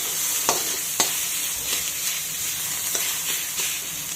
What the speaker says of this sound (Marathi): आता आपण हे सर्व टोमॅटो आणि कांदा मऊ होईपर्यंत परतून घेऊ।